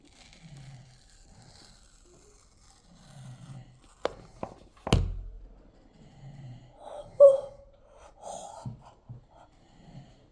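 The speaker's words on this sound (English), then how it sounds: "Listen, listen, listen. Other than my dad's snoring" A man snores faintly in the background with slow, regular low breaths a few seconds apart, interrupted by a couple of sharp, louder crackles and clicks nearby.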